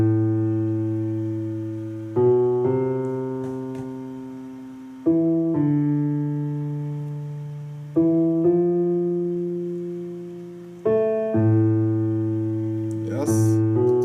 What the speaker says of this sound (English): In the piano part, it sounds like this.